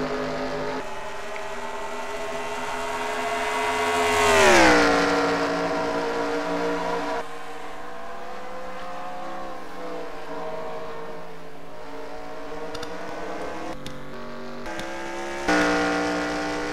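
Engines whine past with a sharp rising-then-falling pitch sweep, as video game stock race cars pass close by on a road course over a continuous engine drone, with another car approaching near the end.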